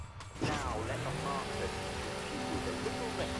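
Rain falls steadily over a street race in the racing video game Midnight Club, a constant wash of patter under engine whine and game sounds, with someone talking over it.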